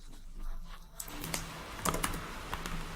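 Computer keyboard keys clack in quick bursts as Ctrl C and Ctrl V shortcuts are pressed, several crisp close taps over a faint background hum.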